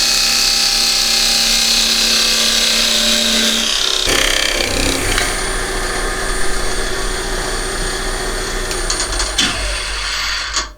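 A wood lathe spins a turned wooden box as a tool parts it off its tenon, giving a loud steady whirring drone with a cutting hiss that shifts near the end as the piece comes free.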